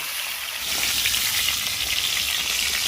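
Pieces of pointed gourd (potol) fry in hot oil, a dense, steady sizzle that swells after a moment and stays loud and close, with no voices.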